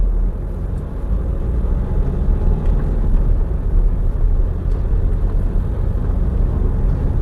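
Mahindra Marazzo 2019 seven-seater driven along a road, with a steady low rumble of engine and road noise that stays constant and fairly loud throughout, no talking.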